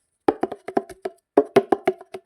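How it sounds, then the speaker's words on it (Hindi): A damru drum rattles in quick uneven bursts of sharp taps, a run of strokes followed by a short pause and then another cluster of hits. The drum sounds moderately close and plays alone. "ये डमरू की ध्वनि है।"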